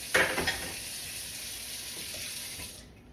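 Tap water runs steadily into a kitchen sink to soak used baking trays, a constant bright rush with a few splashy bursts near the start before cutting off at the end.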